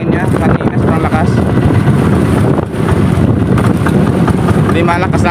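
Strong sea wind roars steadily against the microphone during net fishing, loud and close, with a boat-like rumble underneath.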